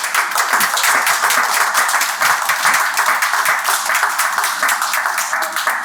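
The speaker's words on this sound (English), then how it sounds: "can we give a round of applause to our panelists?" Loud, steady applause from a crowd, dense clapping filling the whole stretch without pause.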